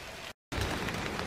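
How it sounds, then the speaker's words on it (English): Rain falling at a city park campsite, a soft continuous patter and hiss at low level, briefly cut to silence for a moment before resuming steadily. "It's raining."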